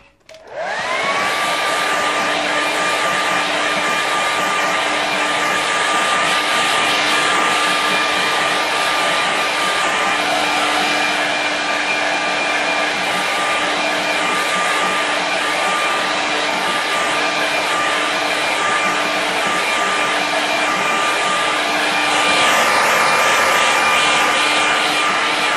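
A hair dryer blowing steadily on a mountain painting, switching on with a rising whine and then holding a loud, even whirring hum throughout, with no talking.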